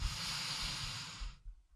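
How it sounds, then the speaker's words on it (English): A single deep breath during a slow mat-based full-body workout, drawn as a long, soft airy rush for over a second before fading to quiet, close to the mic. "Give it a big, generous breath."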